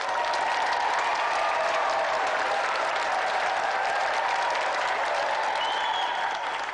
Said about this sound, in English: And let's give another round of applause for our 2 brilliant competitors tonight, Peter Deitch and Henry Coleman Jr.